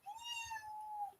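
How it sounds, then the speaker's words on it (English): A house cat meows in one drawn-out, rising-then-level complaining cry lasting about a second, close and clear with no talk over it. "That is my cat is complaining for some reason."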